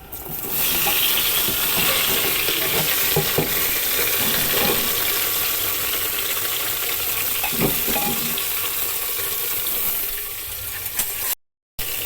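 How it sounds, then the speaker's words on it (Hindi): Ginger, garlic, chili, tomato and onion fry steadily in hot oil, a loud continuous sizzle with occasional stirring scrapes throughout, no voices, cutting off briefly near the end. "और ऐसे ही तेल में छोकेंगे, फिर पीस के इसकी प्यूरी बनाएंगे।"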